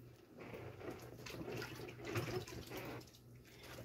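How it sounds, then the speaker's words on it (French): Running water rinsing a peeled vegetable for a salad, a faint steady splashing and trickle under a low hum, with no talk. "Je vais la rincer d'abord une fois."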